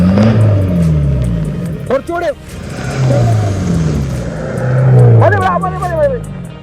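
A Pajero off-road vehicle's engine revs and strains on a slow hill climb in an extreme off-road outing at Vagamon, a steady loud drone rising and falling, with people talking over it throughout.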